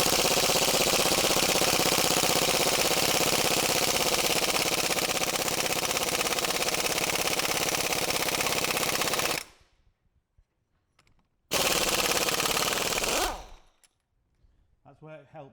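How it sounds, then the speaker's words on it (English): A powerful pneumatic impact gun hammers loudly and continuously at a wheel bearing bolt on a 2003 Mini, cuts out, then gives a second shorter burst before the bolt comes free. "this is a powerful air gun and it should undo that for me"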